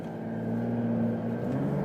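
A Porsche 911 Dakar accelerates out of a corner, its engine a low, steady drone that rises slightly in pitch, heard faintly from inside the car for a brief moment.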